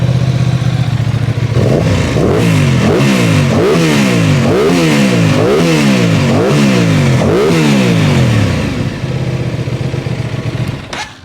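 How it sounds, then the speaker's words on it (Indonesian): A close, loud Aprilia 660 twin-cylinder motorcycle engine idles, then revs in about six rhythmic throttle blips before settling back to idle. "Kita dengerin suara mesinnya ya."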